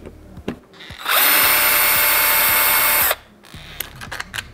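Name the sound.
power drill removing an old doorknob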